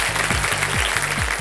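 Studio audience applause on a TV quiz show, a short burst of steady clapping from a crowd, loud and close, with rhythmic low thuds pulsing beneath it.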